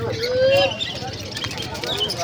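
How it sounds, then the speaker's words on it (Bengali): Pigeons coo at the Birnagar pigeon market, where local and fancy pigeons are sold. A short low coo stands out amid chirps and a busy open-air background. "এই পাশেও একটা আছে, ঠিক আছে দেখাচ্ছে পাশের কবুতরটা।"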